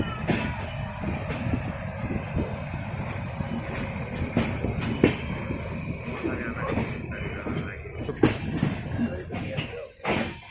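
The Jammu Mail runs behind a WAG9 electric locomotive, a continuous rolling rumble with wheel clatter and occasional knocks, heard under ongoing talk.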